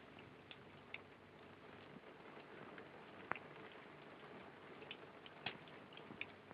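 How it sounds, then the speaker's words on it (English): Faint, steady rain falling outside at night, a soft continuous patter with occasional sharper drips and ticks, heard alone and quiet throughout. "It's only the rain."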